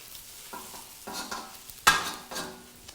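Food sizzles in a cast iron pan as it is stirred and its edges folded over, with several scraping strokes at uneven intervals and one sharp metallic clink near the middle, fairly close and quiet.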